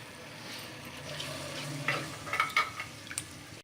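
Ginger garlic paste sizzles softly in ghee while a spoon stirs it in a pot, a faint low frying hiss with a few light scraping clinks near the end.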